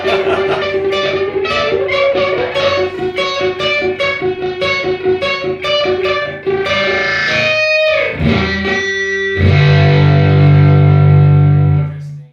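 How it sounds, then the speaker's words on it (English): Distorted electric guitar run through an echo pedal, dense repeating notes smearing into a swelling, droning feedback roar that builds louder toward the end before cutting off. "everything on this pedal hinges on the echo knob"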